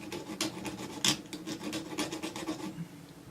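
A greased, hardened steel part is rubbed and scraped against the ground, giving a steady gritty rasp with repeated strokes and one louder scrape near the middle, close and alone.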